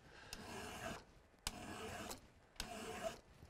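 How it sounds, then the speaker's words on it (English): A hand file sharpens the secondary points of a crampon braced in a vise, giving three faint rasping strokes with short pauses between them and no talking. "And I'm just sharpening in this direction on it."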